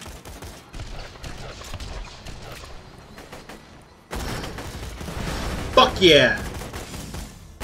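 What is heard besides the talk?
gunfire in the video game Borderlands 2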